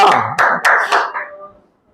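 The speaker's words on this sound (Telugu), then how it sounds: "చప్పట్లు కొట్టమా" A church congregation claps hands together in a short burst of loud, close applause during Sunday worship, with a few sharp claps standing out before it fades away.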